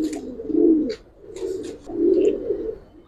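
Silver Giribaz pigeons coo nearby in deep, throaty rolling calls, three clear phrases with short gaps, loud and unaccompanied by talk.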